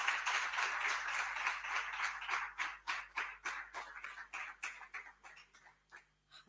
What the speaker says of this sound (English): A round of applause for Ms. Governor as she comes.